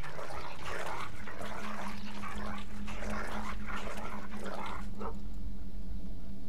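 A dog in a Game of Thrones video game barks and whimpers in a series of short repeated yelps over a steady low game hum, with no speech.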